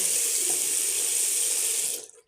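Water runs steadily from a tap into a small washbasin in a bathroom under renovation, a close, even hiss that carries on unbroken and then cuts off abruptly as the tap is shut.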